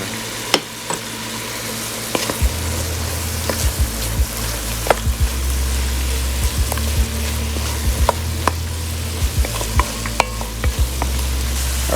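Beef rib braise ingredients, with onion powder and Dijon mustard, stirred in a sizzling pot. Steady frying hiss runs throughout, and a spoon scrapes and clicks against the pot at irregular intervals, close and clear.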